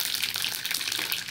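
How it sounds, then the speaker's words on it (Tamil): Mustard seeds crackle and sputter in hot oil for tamarind rice paste, a bright, steady hiss with fine popping, close up and without speech. "இப்போ கடுகு போட்டுக்கிறேன்."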